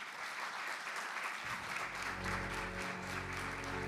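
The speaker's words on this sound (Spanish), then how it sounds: "Un fuerte aplauso, por favor." An audience at an event on Guatemala's energy transition applauds steadily, a dense wash of clapping from many hands heard at a distance, with a low hum rising underneath partway through.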